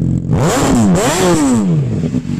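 A 2006 Honda CBR600RR with an aftermarket exhaust can revs loudly up and down several times nearby, its engine pitch swooping high and falling back.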